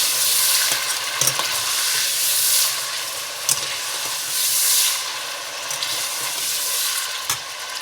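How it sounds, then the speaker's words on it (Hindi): Chicken pieces fry and brown in a pan for chicken pulao, giving a steady, loud sizzle with hissing steam and occasional clinks of stirring, close up and with no talking. "अब चिकन को हमने ब्राउन करना है, तब तक भूनेंगे"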